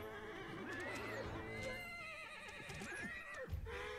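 Horses neigh and whinny in Age of Empires IV, several wavering cries overlapping through the battle, with faint hoof clatter and a soft thud near the end.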